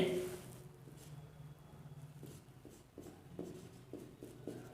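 Chalk or pen scratches out short, repeated strokes during a mechanics lecture, faint taps and scrapes coming in uneven bursts after a brief spoken phrase.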